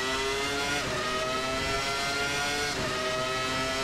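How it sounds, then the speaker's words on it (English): A Williams FW19 Formula One car's Renault RS9 3-liter V10 of 800 horsepower screams at high revs, its harmonics sweeping up and dipping between gear changes in a loud, continuous wail. "Listen to this power. 800 horsepower. From that 3-liter V10 behind us, the Renault RS9"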